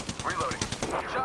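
Rapid automatic gunfire in the battle royale game Apex Legends, a fast regular burst of close, loud shots mixed with other game sounds and a voice over the top.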